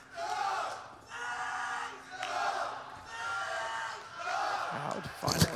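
Esports arena crowd at a CS:GO grand final, Astralis versus FaZe on Inferno at IEM Katowice 2017, roaring and yelling in sustained loud waves that swell and ebb several times, with a burst of louder shouts near the end.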